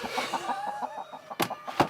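Rooster on a farm, aggressive bird shut in a box, giving a run of short rhythmic clucks followed by two louder sharp calls, close and fairly clear.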